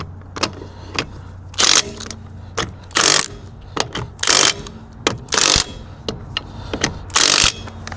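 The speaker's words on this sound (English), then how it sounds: "Then we'll just torque them up to the right torque settings." A torque wrench tightening bolts on a van, heard as close, repeated ratcheting clicks in quick bursts with brief metallic clunks between them, loud and with no talk.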